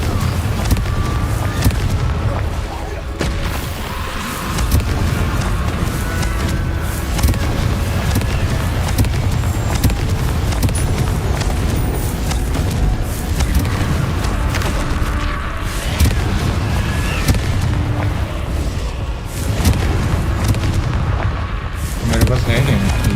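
Repeated Confringo fire spell explosions burst in Hogwarts Legacy amid constant dense combat noise, booms and crackles stacking throughout with a voice talking over the din.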